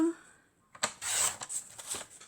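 Paper cardstock being cut for a pop-up card page, a soft swishing snip that starts after a brief quiet moment and continues in short bursts, close and clear with no voice.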